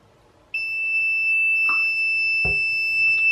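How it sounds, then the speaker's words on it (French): A homemade water level alarm built around a CD4066 chip sounds a loud, steady high-pitched electronic tone that starts abruptly after half a second and holds continuously, with a couple of faint clicks beneath. "j'ai fait un témoin alarme de niveau d'eau"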